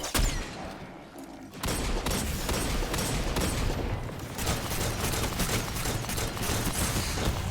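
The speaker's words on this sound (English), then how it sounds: "See, it's so many tracer shots." Rapid tracer gunfire in the shooter game Destiny 2 rattles continuously after a brief lull, dense and loud with steady rhythmic bursts and no talk.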